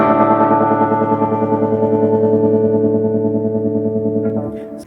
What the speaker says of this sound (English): turns on a slicer, which is a kind of pattern tremolo